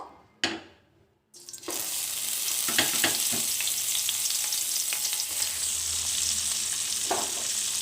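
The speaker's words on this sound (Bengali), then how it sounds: "চিংড়ি মাছগুলোকে আমি এবার ভেজে নেব" Prawns drop into hot oil in a wok for chingri malaikari. A near-silent moment and a small clatter come first, then a loud, steady sizzle bursts out and keeps going, with a few utensil taps over it.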